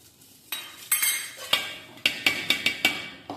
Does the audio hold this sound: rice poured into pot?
yes